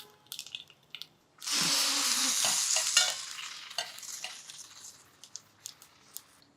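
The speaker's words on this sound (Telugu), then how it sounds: "తాలింపు వేగిపోతుంది" Mustard seeds and urad dal sizzle in hot oil for a tempering for dosakaya dal. A sudden loud burst of frying fades over about two seconds, followed by scattered light taps and clinks.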